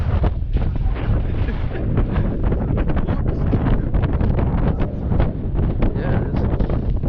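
Strong wind gusting across a frozen Montana lake during ice fishing, a loud, steady roar battering the microphone without let-up.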